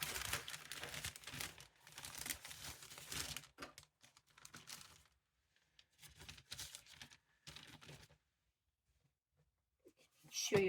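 Parchment paper crinkles and rustles in several loud bursts with short pauses between them, as it is handled up close for a Perler bead project.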